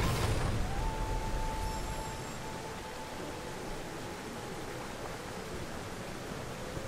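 Rushing water roars in the video game Ori and the Blind Forest, a loud broadband torrent that starts strongest and settles into a steady, continuous rush, with a brief tonal chime over it and no talking.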